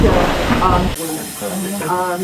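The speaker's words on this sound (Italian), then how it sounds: "La valvola si vede che c'è fuori un po' di vapore." Steam hisses from a valve on a working Cornish engine, a steady broad rush that runs throughout, with a sharper shift partway through and faint tonal mechanical sounds underneath.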